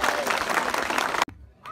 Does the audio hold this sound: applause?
yes